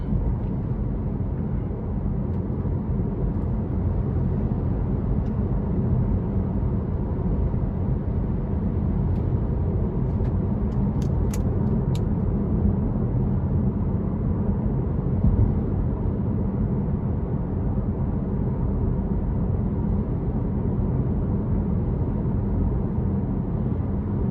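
A 2016 Chevrolet Malibu Premier 2.0T cruising down a road, heard from inside the cabin as a steady low rumble of tyre and engine noise, even and unbroken with no voices.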